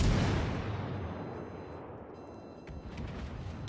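A big warship gun salvo from World of Warships: Legends opens with a heavy boom that rolls away into a long fading rumble, with a few faint clicks afterward.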